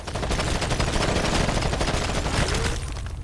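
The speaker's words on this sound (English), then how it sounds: "I'm getting sniped at right now" Dense, loud gunfire fills a firefight in Ghost Recon Advanced Warfighter as a sniper fires on the player, the rapid shots merging into a continuous blasting roar.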